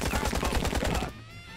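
Rapid automatic gunfire in the Chicago gang-war video game Empire of Sins, a dense burst of loud rattling shots lasting about a second, then cutting off to a quieter background.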